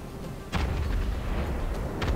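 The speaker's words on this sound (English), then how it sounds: "The huge guns." Big naval guns fire in the video game Total War: 1942 during the Battle of Midway. A deep boom lands partway in, then a sustained low rumble with further distant thuds.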